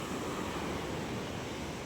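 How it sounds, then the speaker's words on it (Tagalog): Continuous roar of big ocean waves and surf at a seaside fish terminal in Tanza, loud and close, with wind rushing across the microphone. "Grabe, lalaki ng alon, oh."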